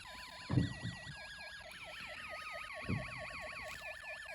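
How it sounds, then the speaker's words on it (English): A Snap Circuits musical siren powered by a hand-spun motor, its warbling electronic wail rising and falling continuously alongside a thin tinny melody, with a couple of soft bumps and handling noises. "You're using mechanical energy to produce electrical energy when you spin the motor and activate the musical siren."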